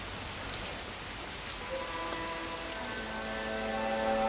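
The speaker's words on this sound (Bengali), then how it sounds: "তোমার সন্তানের পবিত্র আগমনে এই অঞ্চলে বৃষ্টি বর্ষিত হলো" Rain falls in a steady, even hiss that fills the whole stretch, with a faint sustained tone lying underneath; no voices are heard.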